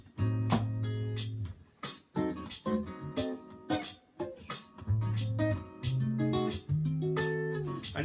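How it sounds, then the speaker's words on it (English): Diminished chords played on guitar, a series of strummed and arpeggiated chords ringing out one after another with brief gaps between them, close and clear with no talking. "Diminished chords sound like this."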